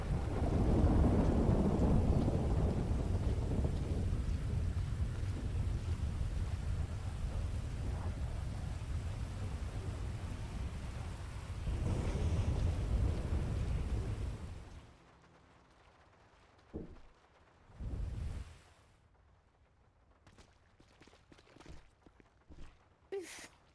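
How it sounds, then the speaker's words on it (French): Heavy, loud rumbling video game rain with deep thunder fills the first fifteen seconds, then drops to quiet with a few brief bursts of rumble and crackle. "La pluie."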